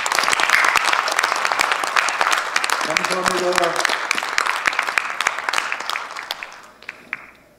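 A church congregation at an evening New Year fasting prayer service gives sustained applause, dense and loud, fading near the end; someone speaks briefly over the clapping.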